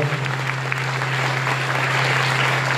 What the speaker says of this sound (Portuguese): Dá uma salva de palmas para o Senhor Jesus Cristo que nos salva.